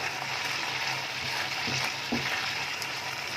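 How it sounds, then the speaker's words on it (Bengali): Kalakand milk mixture being stirred in a pan on a gas stove, a steady low sizzle and bubbling with faint scraping of the spoon against the pan, continuous and close. "আরও কিছুক্ষণ আমি একটু নাড়াচাড়া করব।"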